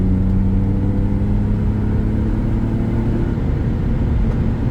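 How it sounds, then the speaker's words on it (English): A BMW E36 engine idles smoothly, a steady low hum that stays even and continuous throughout with no voices over it. "The sound in this car is a lot smoother."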